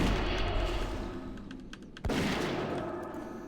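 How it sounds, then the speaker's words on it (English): Shadow bolts being cast in Classic World of Warcraft during a fight with demon dogs, heard over a steady wash of battle noise, with one sharp, loud impact burst landing partway through. "Shooting shadow bolts at him"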